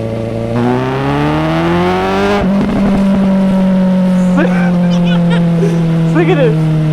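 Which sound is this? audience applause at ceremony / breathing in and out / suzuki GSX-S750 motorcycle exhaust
suzuki GSX-S750 motorcycle exhaust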